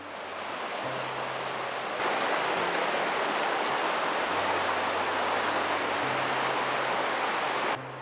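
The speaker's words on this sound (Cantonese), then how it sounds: "仲有溪流喺旁邊湍急流過嘅潺潺聲響作伴" A rushing stream in Oirase gorge in late autumn roars as a dense, unbroken wash of water that swells slightly partway through, with a faint low hum underneath and no talk.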